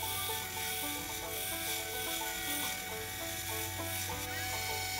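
A belt grinder with a coarse 40 grit belt grinds the bevel on a chunky tanto knife blade, a steady continuous whirring hum with gritty abrasive hiss, near and unbroken throughout.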